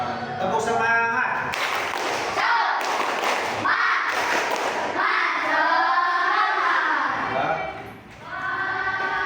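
Rhythmic group clapping chant in a classroom, a teacher leading pupils through a spirited clap pattern of quick hand claps and thumps, loud and close, with children's voices calling out along with the claps.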